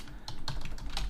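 A few quick keystrokes on a computer keyboard, close and clear over a low background hum, with no one speaking.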